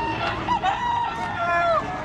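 A large rooster at Baliuag pet market crows in a drawn-out, wavering call amid a busy, loud market din with voices around.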